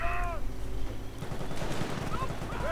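Gunfire at a base in a World War II strategy game, a steady crackle of machine-gun bursts and rifle shots with a faint voice and brief whistling tones mixed in.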